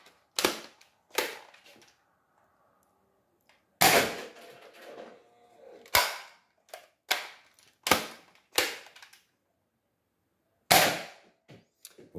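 Modded Nerf Rival Knockout blaster firing X-Shot darts during a test: about ten sharp, loud snapping shots spaced irregularly with near-silent gaps, each with a brief mechanical rattle after it.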